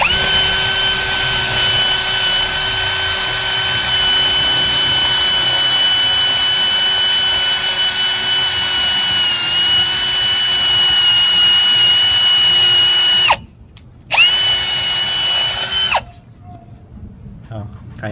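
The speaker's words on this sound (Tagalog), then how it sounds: "Yung impact rated siya para makadrill kayo sa mga concrete." An impact-rated power drill with a masonry bit bores into concrete, a loud continuous whine with steady grinding that briefly cuts out near the end, restarts, then stops.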